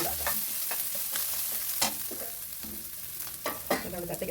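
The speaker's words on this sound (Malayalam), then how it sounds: "കരിവേപ്പില ഇട്ട് നമ്മുടെ അരപ്പിടം ഇടാം. അരപ്പിട്ടൊന്ന് ചൂടാക്കാം." Curry leaves and a ground coconut paste fry in a pan for a Kerala jackfruit thoran, giving a steady close sizzle broken by scraping stirs and occasional louder spatters.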